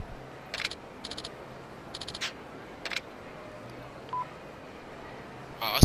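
In the Yakuza 2 video game, a phone is dialed with five short electronic tone beeps at uneven intervals, fairly close, then a brief soft tone and a click at the end.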